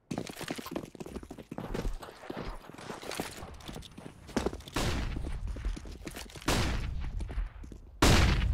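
Gunshots ring out during a Counter-Strike match on Dust 2, a Desert Eagle pistol among them, as sharp separate bangs with louder shots near the end, while a caster talks over the game.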